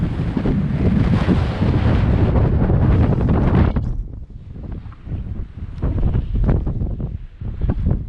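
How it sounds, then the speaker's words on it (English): Strong wind buffets the microphone in a loud, continuous roar on a high spot in the Scottish Highlands, easing slightly partway through, then gusting again in rough bursts. "It is very windy up here"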